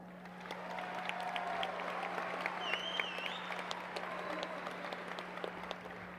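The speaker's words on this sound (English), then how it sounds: "Let's give each of these exceptional students a round of applause." Audience applause at the 2019 Hutto graduation ceremony, a broad continuous clatter of many hands clapping in a large hall, with scattered cheers and whistles on top and a steady electrical hum underneath.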